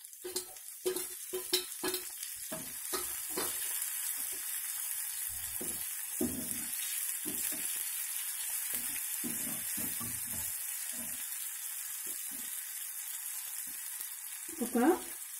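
Ginger and green chilli pieces sizzle steadily in hot tempering oil, a continuous close hiss with spoon stirring clatter scattered throughout and a louder stir near the end, no one talking.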